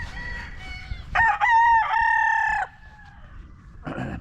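A bulik gamefowl rooster crows loudly and close by, one long drawn-out cock-a-doodle-doo of over a second, followed by a short cluck at the end.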